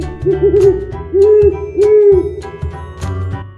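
A voice imitates an owl, giving a run of drawn-out, loud hoots in a steady rhythm, close and clear.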